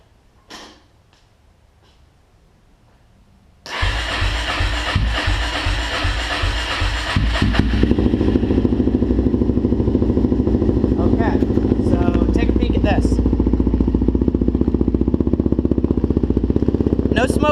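A Suzuki LTZ400 ATV engine cold-starts after a quiet pause, catching abruptly and settling into a loud, steady, close running clatter that grows slightly fuller as it keeps idling.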